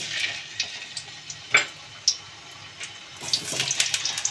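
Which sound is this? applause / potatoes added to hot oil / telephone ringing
potatoes added to hot oil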